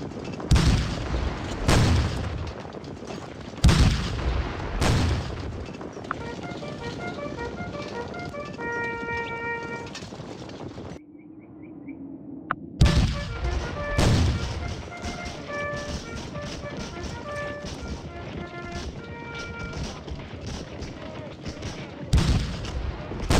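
Musket volleys and artillery booms from the Civil War game Scourge of War: Gettysburg, with repeated loud broadband blasts and rattling fusillades over a steady battle din, broken by a short quieter gap midway; someone talks over parts of it.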